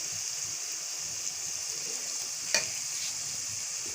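Onion, tomato and garlic frying in a pan for a fish curry, giving a steady soft sizzle with a brief clink of stirring partway through.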